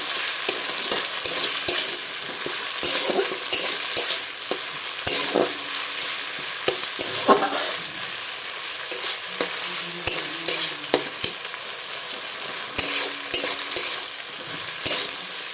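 Tomato with onion paste and garlic paste sautéing in a pan, a continuous close sizzle broken by frequent scraping strokes of a spatula, fairly loud and without any talking.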